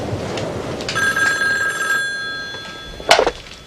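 A telephone bell rings indoors in one sustained burst, loud and near, then falls silent before a brief rustle of handling.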